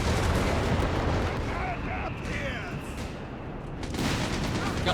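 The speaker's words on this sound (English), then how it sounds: "A red hit from the Vespa on the 6 pounder gun there." Artillery fire from a Vespa self-propelled gun in the strategy video game Company of Heroes 3, with a heavy booming blast at the start and another near the end, ringing over continuous battle noise while a voice talks over it.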